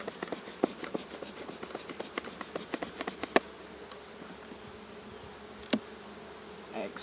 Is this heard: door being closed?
no